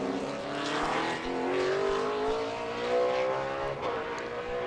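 A NASCAR Nextel Cup stock car at Sonoma in 2007 qualifying sweeps through the final turn onto the pit straight, its engine rising steadily in pitch as it accelerates, loud and close throughout.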